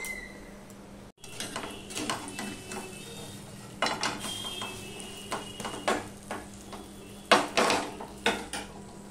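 Gram flour batter fries in a generous amount of oil under a low sizzle, punctuated by repeated metallic clinks and scrapes of a utensil against the pan.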